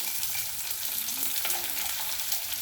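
Tomato and onion frying in a pan while being stirred, a steady dense sizzle with faint scraping movements running throughout, close and even in level, no talking.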